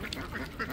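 A flock of ducks on a farm quacks in a brief, busy overlapping chorus, several birds calling at once from close by.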